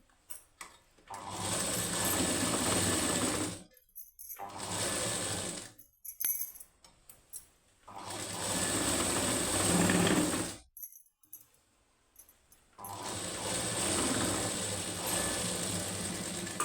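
A sewing machine double-stitches the high neck of a plain blouse in several close, steady whirring runs of a few seconds each, separated by quiet pauses and small handling clicks.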